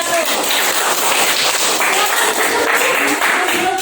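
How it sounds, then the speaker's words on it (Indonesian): A classroom of students applauding a group of classmates, dense loud clapping from many hands filling the room steadily, with some voices mixed in. "Beri tepuk tangan untuk kelompok 1"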